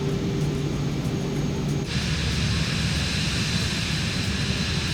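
A small airplane's engine drones steadily just after takeoff in Microsoft Flight Simulator 2024, an even broadband roar that shifts tone partway through and stays constant to the end.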